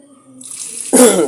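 Water poured into a bucket of settled arrowroot starch while making homemade arrowroot powder, a faint trickle that swells into a loud, close splashing gush for the final moments.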